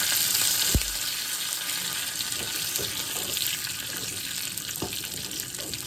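Curry leaves crackle and sizzle in hot oil for a chutney tempering, making a steady, close hiss with a few sharp pops, with no one speaking.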